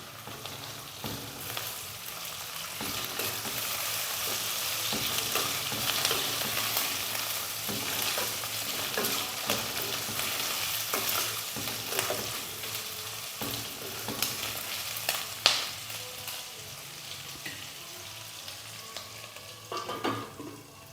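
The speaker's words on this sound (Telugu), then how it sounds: "ఒకసారి కలుపుకుందాం." Ginger garlic paste and onions sizzle and fry in a pan while a spoon stirs and scrapes through them in irregular strokes, a steady close crackle with occasional sharper clinks, for tomato rice.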